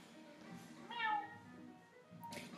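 A cat gives one short, faint meow partway through, set against quiet indoor background noise.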